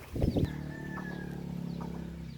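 Rhode Island Red chickens cluck close by in a short burst, followed by a lingering drawn-out call over a steady low hum.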